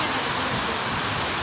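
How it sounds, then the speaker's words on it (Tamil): Heavy rain pours steadily in a village, a dense, unbroken hiss of drops striking surfaces close by, loud and constant with no voices. "மழை சவுண்ட் அப்படி கெத்தா கேக்குது கைஸ்"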